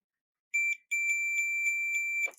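A multimeter gives a continuity test beep while probing a 1/8-inch TRS cable: a short high electronic tone, a brief gap, then a longer steady beep, clear and close with no talking.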